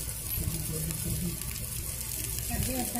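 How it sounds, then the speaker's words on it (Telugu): Chopped onions frying in hot oil with mustard seeds and salt, a continuous close sizzle and hiss that stays steady throughout. "ఆవాలు వేగిన తర్వాత ముందుగా కట్ చేసి పెట్టుకున్న ఉల్లిపాయలను వేసి అందులో సాల్ట్ యాడ్ చేసి"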